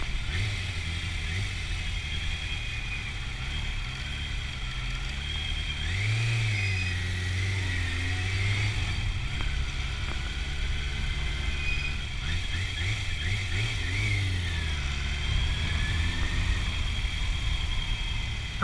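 A small engine on a motorized pedal bike or scooter revs steadily, rising and falling in pitch through several throttle pulls, heard continuously at moderate distance over a constant background hum, with no talk.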